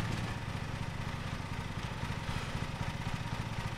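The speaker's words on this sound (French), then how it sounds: "On va déjà faire le gros du gros avec le tracteur tondeuse." Ride-on lawn mower (tractor mower) engine in a landscaping simulator video game, a continuous low, rattling drone with a fast pulsing throb, steady and unbroken for several seconds with no speech.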